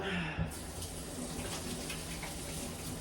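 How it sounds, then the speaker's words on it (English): Water runs steadily from a kitchen tap as hands are washed while cooking, a soft, even hiss that continues for a few seconds after a small clunk at the start. "I'm gonna have to wash my hands this time."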